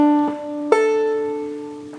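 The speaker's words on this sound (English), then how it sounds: "instead of doing the drop thumb on the second string, we're doing it on the open first" Clawhammer banjo tune with the drop thumb landing on the open first string: a few plucked notes ringing out bright and close, each attack decaying slowly, played alone.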